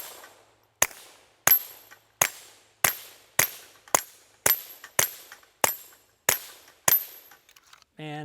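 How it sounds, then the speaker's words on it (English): A Walther PPQ M2 pistol fires Federal Champion 36 grain copper jacketed .22LR rounds outdoors, with eleven sharp, close shots in a steady rhythm about two-thirds of a second apart, each trailing a brief echo, and a short voice at the end. "Let's shoot it some more."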